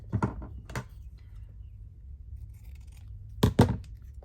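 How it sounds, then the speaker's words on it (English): Scissors snip through paper during junk journal crafting, a few short crisp cuts near the start and a louder pair of snips later, with quiet room background between. "why are you not tearing? I'll have to cut you."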